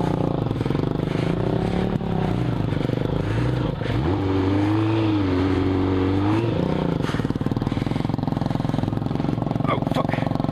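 Subaru Bandit car driving off-road with gas spilled, its engine revving and droning steadily as the slick tires slip, with scraping and clattering underneath, loud and continuous throughout.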